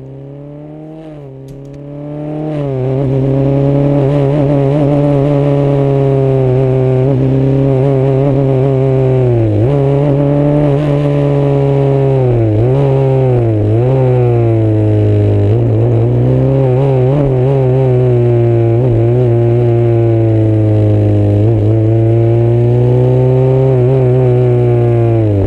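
Onboard roar of a Formula 3 car at the Paul Ricard circuit, revs climbing then falling sharply with each upshift, repeated gear changes in a loud, continuous engine howl.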